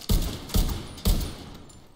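Three evenly spaced bursts of gunfire from a large-magazine weapon in the shooter game The Division 2, each a sharp crack with a short decaying tail, moderately loud, with no speech over them.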